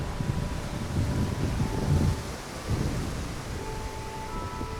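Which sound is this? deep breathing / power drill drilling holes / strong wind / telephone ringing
strong wind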